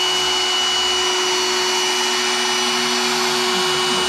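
CNC router cutting quarter-inch-deep mortises into wood for a workbench, a steady high-pitched spindle whine with a constant hum, running evenly throughout with no voices.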